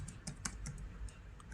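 Rapid typing on a computer keyboard, close and fairly quiet, with irregular clusters of light key clicks and a few sharper taps over about a second and a half, no voice.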